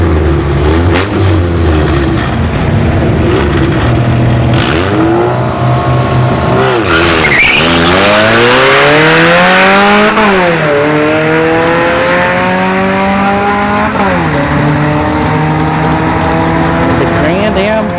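An all-motor B-series Honda Integra drag races down a dragstrip during test-and-tune, its engine revving loud and climbing through repeated gear changes over a long run, with a commentator talking over it.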